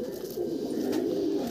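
An Andhra pigeon with a closed tail coos in a low, continuous rolling murmur, close and steady, with no talk over it.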